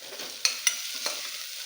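Ginger paste, coriander stems and curry leaves fry in a pan for pumpkin sambhar, with a soft steady sizzle broken by a few sharp spoon clinks as it is stirred.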